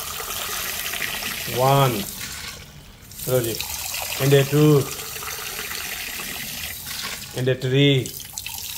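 Water is poured into a cooking pot while rice for chana pulao is prepared in a home kitchen, coming in short splashing pours between bursts of a person counting aloud.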